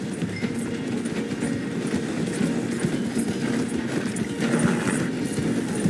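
A galloping horse running alongside a train slowing through a station in Red Dead Redemption 2, its steady hoofbeats mixed with the rumble and clatter of rail cars in a dense, continuous roar.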